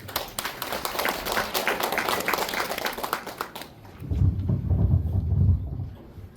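A burst of applause from a crowd at an apartment residents' briefing in Guri, welcoming the mayor, for a few seconds, then it cuts off into a low rumbling murmur.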